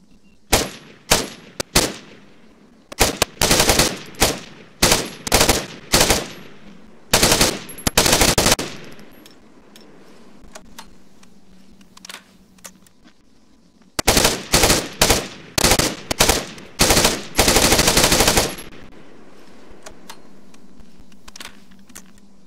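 An MTAR 21 5.56mm assault rifle in a video game mod fires rapid, loud, close bursts in two clusters, short stuttering volleys with quiet gaps between them and no voices.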